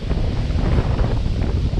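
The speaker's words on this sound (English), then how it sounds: "Now it's windy again." Gusting wind blasts straight into the microphone, making a loud, steady low rumble with uneven buffeting throughout.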